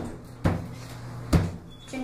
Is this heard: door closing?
yes